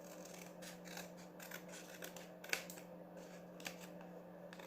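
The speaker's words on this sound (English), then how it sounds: "so let's just cut our extra piece off here" Scissors cutting a paper envelope to trim off an extra piece: soft, close snips and paper rustles over a steady low hum, with no talk.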